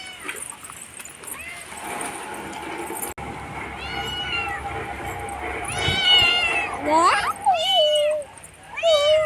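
Cats meow repeatedly and insistently while being fed scraps from a night fish hunt, their cries growing louder and overlapping near the end as people talk in the background.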